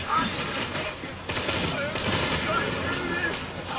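Veruc assault rifle fire in a video game, a dense rattling burst of rapid shots that runs nearly nonstop, loud and close, with a brief gap partway through.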